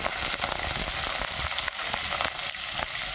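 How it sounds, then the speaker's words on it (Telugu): Onions going into hot oil with garam masala for bagara rice, frying with a steady close-up sizzle and crackle that holds loud throughout, with no talking. "ఆనియన్స్ వేసుకుంటున్నాను"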